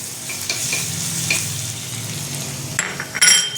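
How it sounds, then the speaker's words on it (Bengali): Chopped garlic hits hot oil and butter in a pan for Bengali-style mutton tarka, giving a soft, steady sizzle with stirring scrapes and a few clinks of utensil against the pan near the end. "এবার দিয়ে দেবো রসুন কুচিটা, গ্যাসটা বন্ধ করে দেবো, নাহলে পুড়ে যাবে।"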